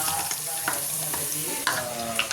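Onion, tomato and potato sizzling and being stirred in a pan for masale bhat, a steady close hiss of frying broken by a few scraping strokes of the spoon.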